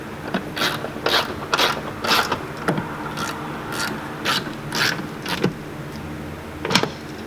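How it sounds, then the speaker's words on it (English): A ratchet tightens the 14mm top nuts on a Subaru Crosstrek's suspension during an LP Aventure lift kit install, giving off irregular bursts of quick clicking strokes with short pauses between them, close by and moderately loud, with no talking. "So now all we gotta do is just tighten up those 14mm nuts on top"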